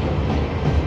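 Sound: Garib Nawaz Express train passing on rails

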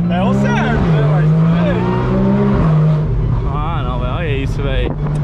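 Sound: Porsche accelerating in city

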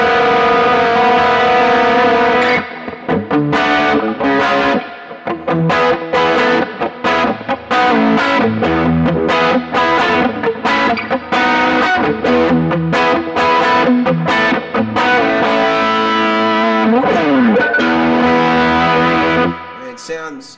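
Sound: electric guitar through overdrive pedal

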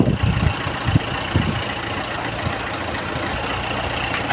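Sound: tractor working with a disc harrow

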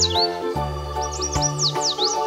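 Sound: yellow warbler song

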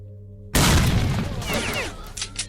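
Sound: grenade explosion in video game S.T.A.L.K.E.R

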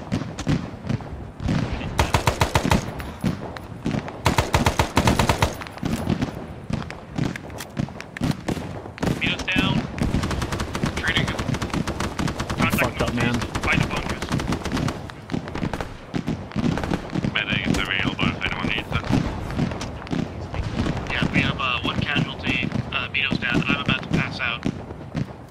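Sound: gunfire from a bunker in video game Arma

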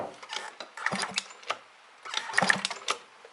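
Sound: Yamaha Jog Aprio scooter ignition spark test

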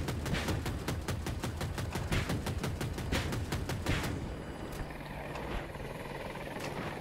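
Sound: helicopter in the video game Battlefield 2042

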